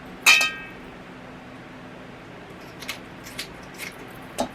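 Kitchen scissors snip through chicken wings: one sharp metallic clip near the start, followed by a few faint, soft cuts spaced apart against a quiet room background.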